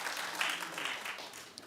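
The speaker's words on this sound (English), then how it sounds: "Well, clap if you care." Brief burst of studio audience applause on a celebrity talk show, moderately loud steady clapping heard alone.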